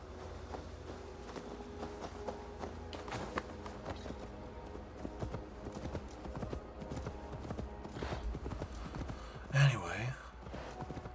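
Hooves of a horse in Assassin's Creed Valhalla clop steadily on the ground at a walking pace, with the horse snorting briefly near the end and faint background noise throughout.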